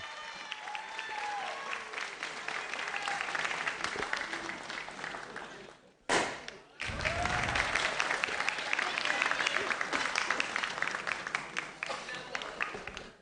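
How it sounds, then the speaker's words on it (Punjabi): Loud, dense applause from a studio audience on a Doordarshan Jalandhar show fills the scene, dropping out for a brief gap about halfway through before surging back just as full and steady. "ਵਾਹ ਜ਼ੋਰਦਾਰ ਤਾੜੀਆਂ"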